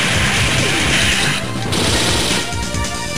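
Grenade blasts in the Metal Slug Advance video game, a loud dense crashing burst running continuously with heavy low rumble and a brief dip in the middle.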